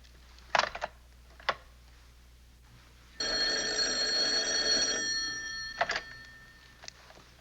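A telephone bell rings in one sustained, loud burst of almost two seconds, with a few clicks and knocks nearby before and after and no talk.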